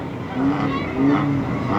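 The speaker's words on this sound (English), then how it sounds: "Keithy Reynolds got the back end flying off" Engine roar and tyre squeal come from a race car sliding sideways at a trailer race meeting at Fleet Raceway, a sustained mid-distance rumble with brief high screeches, under crowd and commentary noise.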